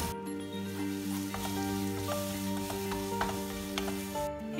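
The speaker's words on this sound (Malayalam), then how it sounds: "ഇതിലേക്ക് ഞാൻ രണ്ട് പച്ചമുളകും കൂടെ ചേർത്ത് കൊടുക്കുന്നുണ്ട്. കുറച്ച് കറിവേപ്പില ചേർത്ത് കൊടുക്കുകയാണ്." Green chillies and curry leaves sizzling in hot oil in a home kitchen during Ramadan iftar cooking, a continuous close crackling fry with a few scattered pops and a steady hum underneath, no voices.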